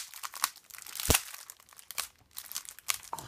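Adhesive tape torn from a craft package of Stamperia supplies, giving a series of sharp crinkling, ripping bursts with one loud central tear, close and with no talk.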